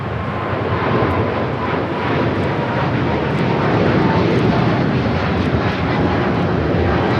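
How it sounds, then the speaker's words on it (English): A Cathay Pacific Boeing 777-300ER takes off from Los Angeles International Airport bound for Hong Kong, its jet engines giving a loud, sustained broadband roar that holds steady for the whole stretch. "This is Cathay Pacific 885 taking off to Hong Kong"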